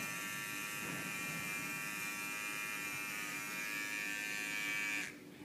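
Electric hair clippers buzz steadily and close by while tapering the side of a haircut, holding one continuous drone that drops away abruptly near the end.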